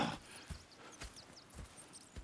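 Horses in Red Dead Redemption 2 clopping at a slow walk, with steady, evenly spaced hoofbeats close by and faint snorts, heard without talk over quiet outdoor ambience.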